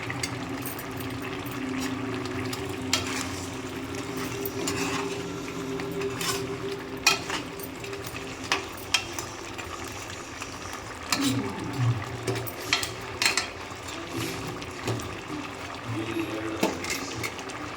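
Goat head curry with coriander and mint garnish simmers in a pot and is stirred, giving a steady close bubbling sizzle with scattered scrapes and clinks, and a voice speaks softly in places.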